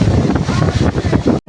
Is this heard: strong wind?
yes